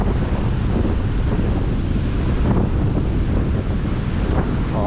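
Strong surf and gusting wind at Agonda Beach in Goa, with dense continuous wave roar and wind buffeting the microphone, loud and unbroken with no talk.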